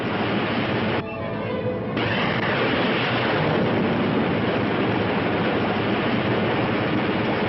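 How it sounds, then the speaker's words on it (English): Rocket engines at full power in a 1960 science-fiction space film, a dense, continuous roaring rumble with a brief dip in texture near the start, steady and loud throughout with no voices. "Engines at full RPM."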